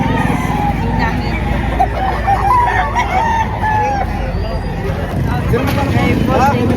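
Chickens and hens at a busy outdoor poultry market cluck and crow loudly and continuously, with roosters calling out over a dense crowd of voices and general market bustle.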